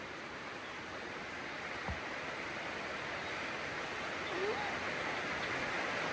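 Rain falls steadily in a dense, even wash of hiss, the first rain of the year, lasting throughout with only faint brief sounds above it.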